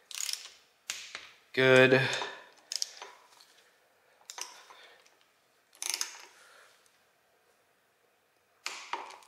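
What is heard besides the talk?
torque wrench tightening water pump bolts on 2JZ engine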